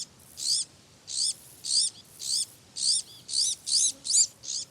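Crow chicks in nests in an Iberian oak forest make high, repeated begging calls, about ten short bursts in a steady rhythm, fairly close against a quiet background.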